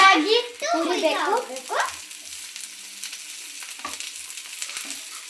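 Cumin, curry leaves and tamarind fry in a pan for a green chilli chutney, giving a steady close sizzle that continues after a brief voice-like sound at the start.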